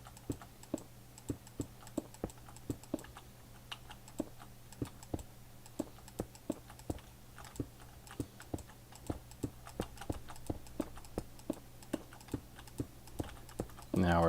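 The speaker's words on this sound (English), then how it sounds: "Now we're speed clicking." Rapid keyboard and mouse clicks while building in Minecraft, a steady stream of crisp, close ticks with a few faster bursts over a low constant hum, no talking.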